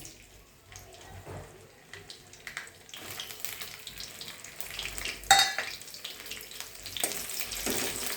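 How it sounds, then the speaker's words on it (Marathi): Quartered okra fries in hot oil, a sizzle that grows louder and denser midway, with a sharp clink and some faint rustling movement. "त्यात आपण तेल गरम झालेले आहे, त्याच्यात तळून घेऊया भेंडी।"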